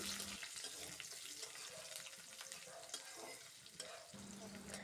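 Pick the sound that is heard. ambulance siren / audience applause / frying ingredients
frying ingredients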